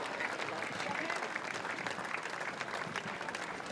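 A crowd claps steadily for veterans at an ANZAC parade, a dense continuous wash of applause heard from a moderate distance.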